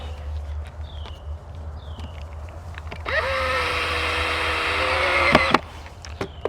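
A power drill drives a deck screw into tight wood in a vegetable garden: one whining, rising burst of about two and a half seconds over a steady low background hum, followed by a couple of sharp clicks.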